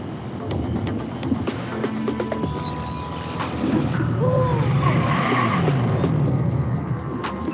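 A 2025 Dodge Charger plays a synthesized engine sound through speakers, heard as a loud, continuous roar with rising revs and tire-like screeching throughout.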